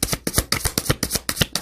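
Tarot cards being shuffled by hand at close range, a quick run of crisp riffling bursts in a steady, fast rhythm, with no speech.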